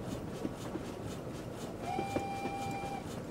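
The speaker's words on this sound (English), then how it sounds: "The whistle's so great." A steam locomotive whistle in Train Simulator 2014 on the West Somerset Railway sounds a single steady tone for about a second over rumbling train running noise inside the cab.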